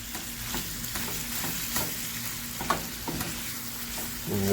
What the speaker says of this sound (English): we are going to incorporate our sauteed onion and garlic from earlier